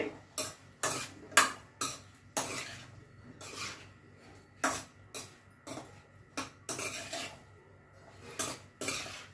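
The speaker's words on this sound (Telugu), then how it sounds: "పసుపు వేసుకోండి బాగా కలిసేటట్టు ఒకసారి కలిపి" A spoon scrapes and clanks against a pan while brinjal fry is stirred, with sharp, irregular metallic knocks repeating at close range over a faint low background.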